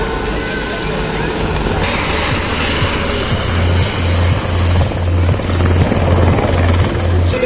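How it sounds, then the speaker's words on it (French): A civil H-120 helicopter's loud rotor thump and turbine whine fill the air at an air show flying display, sustained and fairly close as it maneuvers, with a faint voice beneath. "le H-120 là-bas c'est un hélicoptère civil"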